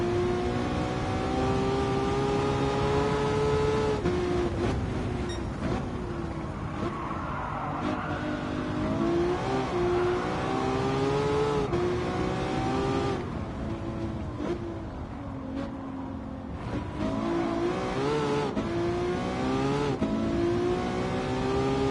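BMW cars driving on a road in Gran Turismo 7, a steady engine drone rising and falling through gear changes, with occasional tire squeal and revving, no talking.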